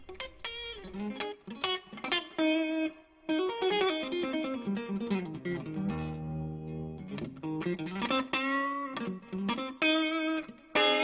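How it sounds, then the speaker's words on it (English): Clean electric guitar chords and picked notes through a VOX AC15 or AC30 amplifier ring out with a spacious onboard reverb tail washing behind each phrase, with no one talking. "Onboard reverb adds depth and dimension to every tone the Custom Series has to offer."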